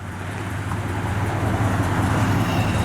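A 1964 Buick Skylark's dual exhaust with Flowmaster mufflers burbles with a deep, steady rumble close by, a low throaty drone with no talking.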